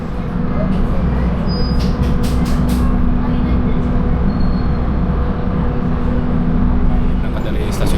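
A passenger train that has departed Bandung station rolls steadily along with a dense, continuous rumble and hum heard from inside, loud throughout with no clear breaks.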